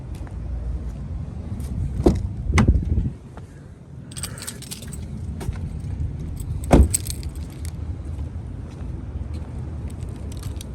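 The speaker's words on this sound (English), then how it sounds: "I'll go back to the front, just grab those keys." Car keys for a 2015 Subaru WRX Premium AWD sedan jangle as they are grabbed, a few sharp metallic rattles in two short bursts over a quiet background.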